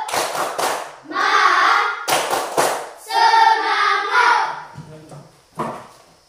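Elementary schoolchildren in an Indonesian classroom do a rhythmic encouragement clap, with bursts of sharp claps alternating with their loud chanted voices.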